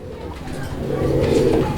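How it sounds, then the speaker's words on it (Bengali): Pigeons cooing steadily at a pigeon market, a dense low murmur of birds close by under an unbroken bed of crowd noise. "এটা ডাউন শেপ কবুতর আপনারা দেখতে পাচ্ছেন"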